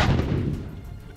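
A single deep boom from an American M777 howitzer firing in the war in Ukraine, heavy and close, tailing off into a rumbling decay.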